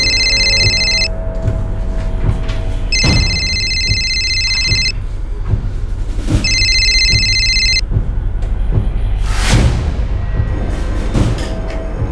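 A telephone rings unanswered in three separate bursts of bright electronic trilling with pauses between, over a steady low hum and scattered knocks and thuds.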